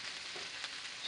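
Sous vide lamb loin chops sear in hot oil in a pan on a stove, giving a steady, close sizzle with a faint crackle, rising slightly at the very end.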